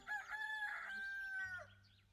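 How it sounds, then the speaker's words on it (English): A stock chicken sound effect in the video game Tavern Talk: a single clear rooster crow lasting about two seconds, drawn out and fairly prominent, heard alone. "Stock chicken cooing noise"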